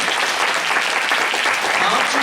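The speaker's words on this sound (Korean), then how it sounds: "우리 수고한 혜상이에게 다시 한 번 더 박수" A church congregation breaks into loud, dense applause, many hands clapping steadily together throughout with no pauses.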